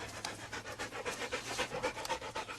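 A truffle-hunting dog pants close by in quick rhythmic breaths, a steady run of short huffs.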